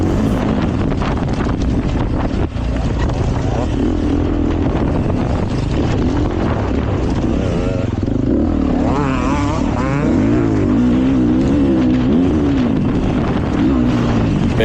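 Dirt bike engine revving hard up a hill at Idaho City motocross, loud and steady with wind buffeting the mic, pitch rising and falling as the clutch is slipped for a small jump.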